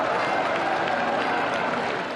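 A huge crowd of around 200,000 in St. Peter's Square applauds and cheers Pope Leo XIV as he rides the Popemobile, a steady, loud wash of clapping and voices with no break.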